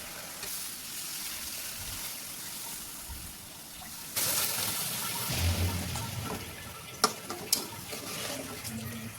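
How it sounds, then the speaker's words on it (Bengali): Water poured into a pan of cooking meat for curry gravy, a sudden rushing splash and sizzle that follows a quieter stretch, then bubbling with a couple of sharp clinks of the pan, close by. "তো এখন আমি পুরোপুরি জলটা টেনে যাবার পরে ঝোলের জন্য জল দিয়ে দিব।"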